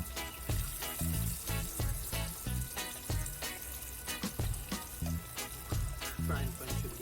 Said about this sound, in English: So now the fish is well seasoned, ready to fry. So I'm moving it over to the frying pan.